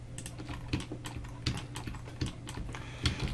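Computer keyboard keys pressed in a quick run of light clicks and taps for a Blender shortcut, close and fairly soft, with a faint steady hum underneath and no talking.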